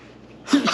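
A single sneeze bursts out abruptly after a quiet indoor moment, loud and close with a sharp breathy release.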